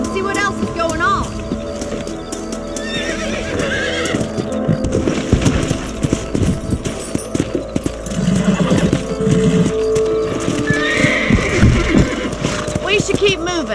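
Horses in the Red Dead Redemption video game clip-clop along at a steady trot and let out repeated loud neighs, with someone speaking over the hoofbeats and background music.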